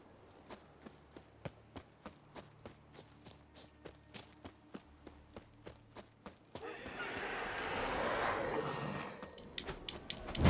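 Roach the horse's hooves clip-clopping in a video game, a steady near rhythm of regular hoof beats that gives way to a louder rushing wash of noise near the end.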